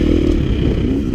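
A 2017 Yamaha YZ250X two-stroke dirt bike engine revs loudly and close, a brief raspy burst of throttle while riding.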